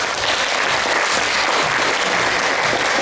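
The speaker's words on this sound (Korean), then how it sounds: "여러분 뜨거운 박수로 모셔보도록 하겠습니다." An audience at a Korean youth festival talk event claps steadily to welcome a speaker onto the stage, a dense loud burst of applause with no talking.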